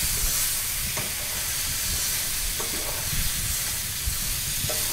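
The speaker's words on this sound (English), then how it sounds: "Once all the meat is covered in the spices and it's in the pan, it's good just to kind of move around just to make sure everything gets an even cook." Spiced pork chunks fry in oil in a pan and get moved around, making a constant loud sizzle and hiss with occasional scraping stirs.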